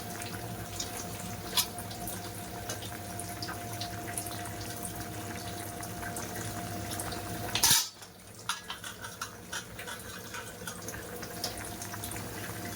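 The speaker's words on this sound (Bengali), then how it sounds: "আমার ঝোলটা টকবক করে ফুটছে" A fish curry of bata fish boils in a pot with a steady bubbling, simmering wash, then a brief clatter of a lid or pot before the sound drops to quieter ticking and bubbling.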